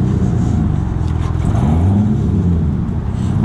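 A sports car engine revs loudly and continuously, its growl rising and falling as the throttle changes, with no voices.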